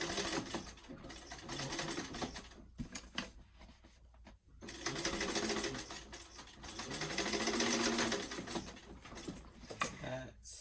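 Sewing machine basting a seam on a fabric weekender travel bag, running in several bursts broken by short pauses, close and fairly quiet, with handling noises between runs.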